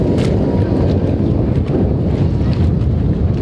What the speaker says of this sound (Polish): straszny wiatr dzisiaj się nam tu zrywa